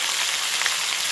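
Spices such as salt and turmeric fry in hot oil with a dense, even sizzle, close and steady for a brief moment without any voices.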